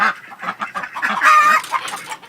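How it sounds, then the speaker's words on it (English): Backyard ducks quack loudly and close by, with several birds calling over one another in quick overlapping bursts, chickens likely among them. "thought you'd want to see my ducks at least once in this video"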